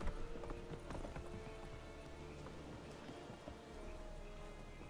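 Geralt's horse Roach galloping in The Witcher 3, steady rapid hoofbeats clip-clopping close by under a faint game soundscape, with no talk.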